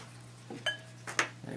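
A Sarracenia carnivorous plant in a sphagnum moss mix is eased out of its small pot, giving a few brief, close knocks and light clinks with soft rustling between them.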